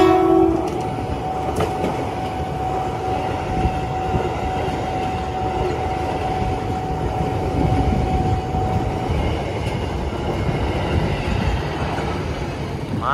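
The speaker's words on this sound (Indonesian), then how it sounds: "tiga kereta sekaligus tadi yang melintas, satu kereta batu bara, duanya komuter lain" At the Volvo level crossing in Pasar Minggu, a coal train and commuter trains rumble past continuously with rhythmic wheel clatter and a sustained horn blast, loud and close, with no talking.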